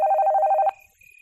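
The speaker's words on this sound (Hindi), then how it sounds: "तभी उसका फोन बजा।" Telephone ringing as a sound effect in a crime audio story: a short burst of rapid electronic ring pulses that stops abruptly, clear and alone.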